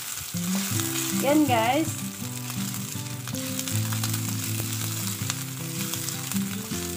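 Meat frying briefly in a pan already seasoned with garlic-and-egg oil, a steady sizzle running under a short spoken phrase and music.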